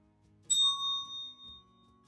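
A small bell struck once, giving a bright, clear ding that rings on and slowly fades, close by with no voices.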